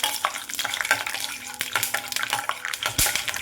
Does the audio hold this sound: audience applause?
no